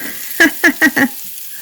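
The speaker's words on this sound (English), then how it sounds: "Let me stir my onions over here with my left hand." Onions stirred in a hot pan, four quick scraping, sizzling strokes in close succession, loud and near, then a quieter background.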